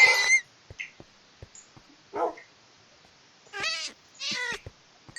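Cats meowing in Minecraft, several distinct meows spaced apart in near silence, each short and clear, with light clicking in between.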